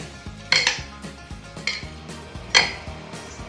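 A spoon stirs and scrapes spicy food made with Bon Cabe level 15 chili in a dish, producing several distinct metallic clinks and scrapes at irregular intervals, close and fairly quiet over a low background hum.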